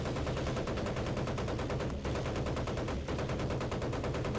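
Gunfire in the video game Battlefield 1943, played on Xbox, as a dense, continuous barrage of loud shots with only two brief gaps, nearby and sustained throughout.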